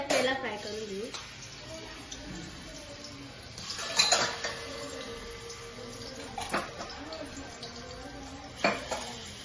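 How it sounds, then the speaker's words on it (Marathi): Banana slices frying in ghee in a pan, a soft steady sizzle punctuated by clinks and scrapes of a spoon stirring against the metal, close and moderately quiet. "आता आपण तूप टाकलेलं आहे, तेला फ्राय करून घेऊ"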